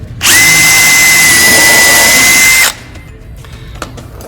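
A power drill drives a bit into wood during robotics competition course assembly, a loud steady whine for over two seconds that stops abruptly, leaving faint background noise and small knocks.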